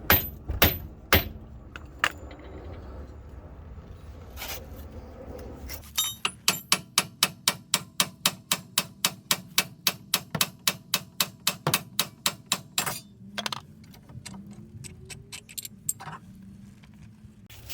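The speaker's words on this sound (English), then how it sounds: "I had to use a small ball peen hammer to free it completely" A small ball peen hammer strikes metal to free a corroded wheel bearing hub from the steering knuckle of a Nissan Altima. After some scattered knocks, a fast, steady run of about twenty sharp, loud taps follows, with a few weaker hits at the end.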